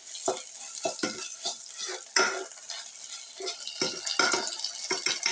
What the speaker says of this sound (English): obviously you can hear it frying